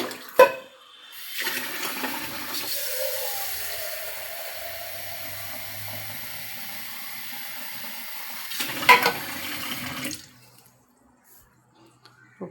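Water is poured into a pressure cooker with chopped papaya for a stir-fry, a steady gushing stream lasting several seconds that ends with a brief splash, then quiet.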